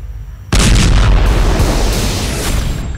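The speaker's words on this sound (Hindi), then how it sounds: "ईसाई ठिकाने पर इसराइल ने बम बरसाए" Bombs explode during Israeli strikes on a Christian site in Lebanon. After half a second of low rumble, a loud, sudden blast erupts and rolls on as a sustained, roaring boom.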